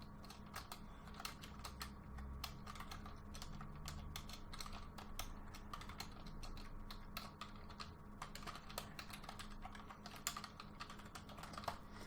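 Rapid keystrokes on a computer keyboard while writing code for an Unreal Engine crafting and inventory tutorial, a steady run of close, light clicks continuing for the whole stretch with no talking.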